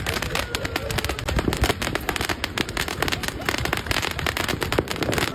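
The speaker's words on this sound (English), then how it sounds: "In some cases, people are lighting fireworks right in front of police armored vehicles." Fireworks and firecrackers going off on Chinese New Year's Eve in a city street near police armored vehicles, a dense, continuous crackle of rapid bangs and pops, loud and close, with faint voices underneath.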